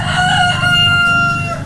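A rooster crows in a village in Bohol, Philippines: one long, loud, close call with a sustained, slightly wavering tone lasting well over a second, set over a steady low background hum.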